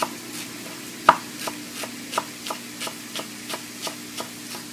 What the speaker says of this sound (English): Now we're going to take our first little bunch, just cut the little tips off, move it to the side.